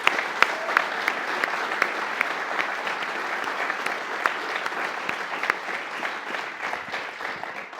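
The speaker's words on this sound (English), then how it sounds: "Can we please have one more round of applause for them?" A room full of people at an evening talk and book signing claps in sustained applause, a dense, even patter that holds steady throughout and tapers slightly near the end.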